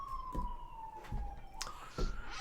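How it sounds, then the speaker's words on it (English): A siren wails at a steady pitch in the background, moderately distant, with a few soft thumps and clicks nearby. "Rude siren right before the intro"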